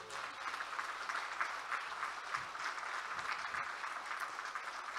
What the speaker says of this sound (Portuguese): Quem aplaude a Deus?